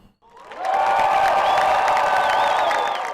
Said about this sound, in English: A big cheer for a man with a big personality, Richard Aspinwall.